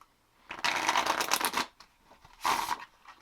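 Tarot cards are shuffled close by in two bursts, a long riffling flutter followed by a shorter one after a pause.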